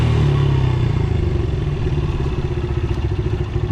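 A close engine rumbles and revs steadily with a rattling, clattering texture, loud and continuous throughout.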